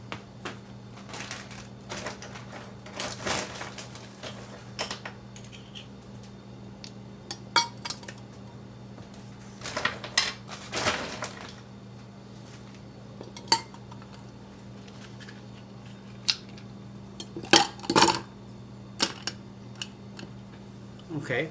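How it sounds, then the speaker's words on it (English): Ice cubes dropping into a glass of strong coffee, a scattered series of sharp, bright clinks at irregular intervals against a quiet kitchen background. "Next, I'll be adding some ice and filling it up to"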